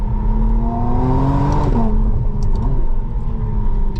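A 2025 McLaren Artura Spider's engine revs up loudly from inside the cabin, its rising note climbing through a seamless gearshift into a steady rumbling drone, close and continuous with no talking.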